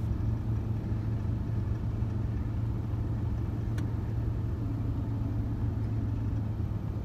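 A car reverses up a quiet, snow-free country road, giving a steady, low engine drone at a moderate distance that holds constant throughout with no voices.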